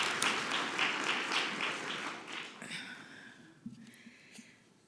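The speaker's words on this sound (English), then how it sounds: "we need to give them a round of applause" A crowd applauds at a city council celebration honoring the first African-American majority, the dense clapping loud at first, then thinning and fading over the last seconds.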